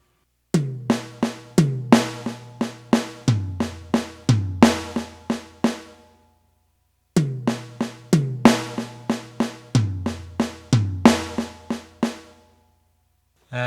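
Paradiddle fill played on snare drum and low tom, two bursts of rapid, evenly spaced strokes that step down from the snare's crack to the tom's deeper boom, each with a crash-like ring, separated by a brief pause, close and loud.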